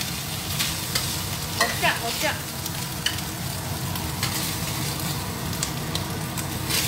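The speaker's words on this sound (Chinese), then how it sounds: "我们烧热油，爆香蒜泥，然后呢，再把这个调味好的瘦肉下锅炒香。" Seasoned lean meat stir-frying with garlic in hot oil in a wok, a steady loud sizzle with scraping stirring strokes throughout, a brief voice speaking midway.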